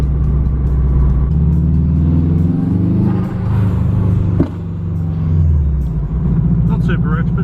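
A car engine running rich rumbles loud and close from inside the moving vehicle, with a deep steady drone and a few shifts in pitch as it revs, under someone talking.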